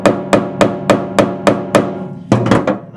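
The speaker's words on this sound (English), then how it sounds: "you can beat on it with a hammer" Hammer beating on a screwdriver to seat it into a stuck screw head during fuel tank replacement on a 544, a steady run of eight sharp metallic strikes followed by a quicker cluster of hits, close and loud.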